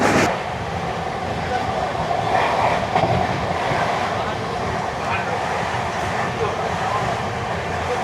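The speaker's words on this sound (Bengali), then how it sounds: "বালি ব্রিজের উপর থেকে আমাদের ট্রেন চলেছে" A train rolls steadily across the Bally Bridge with a loud, continuous rumble and faint rhythmic clatter of wheels, voices partly audible beneath the noise.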